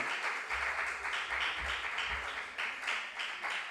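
A crowd applauds a quiz team at a regional junior science and maths quiz qualifier in the Ashanti Region, giving steady, dense clapping that holds throughout.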